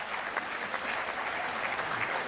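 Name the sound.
audience applause at a poetry performance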